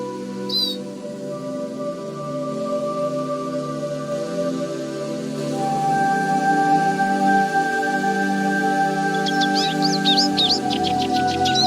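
Wild birds chirp in quick bright bursts, one brief call early and a rapid run of tweets near the end, heard over a steady layered tonal background.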